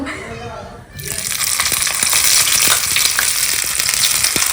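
Marinated squid frying in hot oil, a loud, steady broadband sizzle that bursts in after a brief quieter moment and continues with crackling pops throughout.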